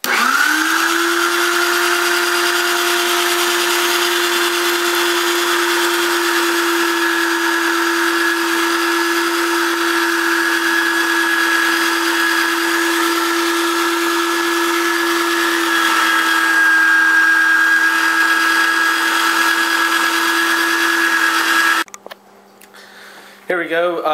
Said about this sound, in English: all I'm doing is just placing it at the top of the meat grinder, and that's it. And watch it grind it.